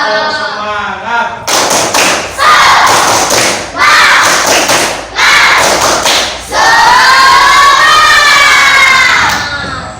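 A school class performs a rhythmic spirit clap, loud close bursts of hand claps and table thumps in set patterns, with children chanting and shouting together between and over the beats.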